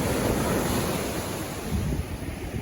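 Ocean surf on a Florida beach, fairly big waves rolling and breaking in a steady continuous wash with some wind noise, loud and close, no voices.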